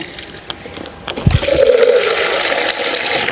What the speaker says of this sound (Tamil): இன்றைக்கி கொஞ்சம் தண்ணி ஊற்றிடலாம்.